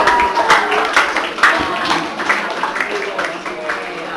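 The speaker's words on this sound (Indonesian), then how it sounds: "kasih tepuk tangan lagi buat Fari" Steady applause from a group of young people at an HIV and drug awareness session, dense clapping with voices and chatter mixed in.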